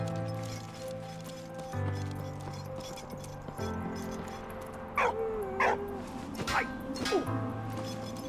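A dog in the game Valiant Hearts: The Great War yips and whimpers in several short, rising bursts over music with sustained tones, near and moderately loud.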